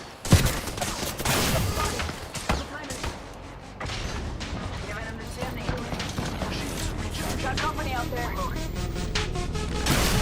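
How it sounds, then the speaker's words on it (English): Enemy team gunfire in a shooter video game, dense bursts of rapid shots and impacts rolling continuously throughout, loud and close, with a voice talking over the action. "Team shooting at me from behind."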